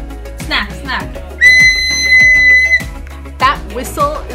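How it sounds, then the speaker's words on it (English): A child blows a loud, shrill whistle in one sustained blast lasting over a second, with short chirpy whistle bursts before and after, while an adult talks and the child chatters around it. "That whistle is gonna make my eardrums blow out."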